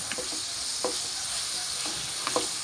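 Sliced onions fry in a pan for a green peas curry, giving a steady broadband sizzle with a few soft scraping strokes from a spoon stirring them, close and continuous without any voices.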